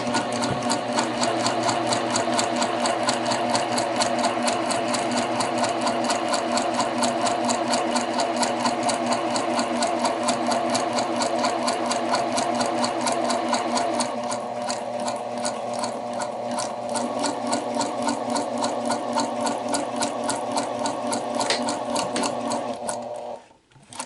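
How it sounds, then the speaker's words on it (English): A sewing machine runs continuously while stitching a half-inch seam on a garment with a back tack at each end, a close, loud, steady mechanical whir that shifts slightly partway through and stops abruptly at the end. "1/2 inch seam allowance, back tack at the beginning, back tack at the end."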